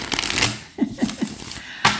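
A new deck of tarot cards is riffle-shuffled close by, with a papery flutter and several crisp card snaps in a short burst, then one more sharp riffle.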